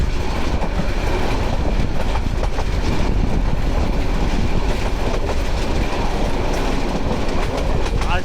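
The Kishoreganj Express, a Bangladeshi intercity train running at speed, gives a loud, continuous rumble of wheels on rails with a steady rattling clatter throughout.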